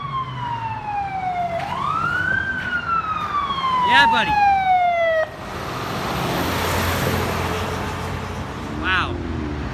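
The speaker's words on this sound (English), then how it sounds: "We got a fire truck coming, folks." A fire truck's siren wails as it passes along a city street, a loud, sweeping tone that rises and then slowly falls before cutting off, with a horn blast partway through, a man's brief remark and steady traffic noise beneath.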